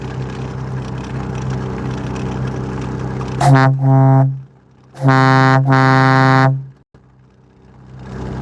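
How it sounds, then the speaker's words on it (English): A semi truck's chain-pulled air horn blasts loudly nearby, one short honk followed by a longer sustained one, over a rumbling idling engine. "this chain here is the lever, the actuator for the air horn here"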